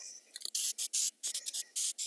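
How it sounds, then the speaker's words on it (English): Short bursts from an aerosol spray can of paint hiss onto black plastic motorcycle parts, a few brief test puffs followed by a series of longer, evenly spaced sprays, close and crisp. "You can also do a test spray like that"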